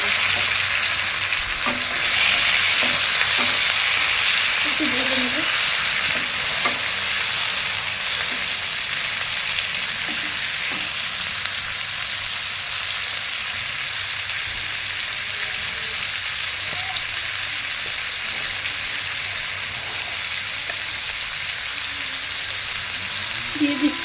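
Raw tomatoes added to small fish frying in a pan, cooked village-style with potatoes for a chorchori, sizzling steadily and loudly throughout with occasional stirring scrapes, no talking.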